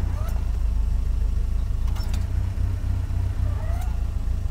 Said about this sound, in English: you can hear actually the RPMs drop slightly when I step on the clutch.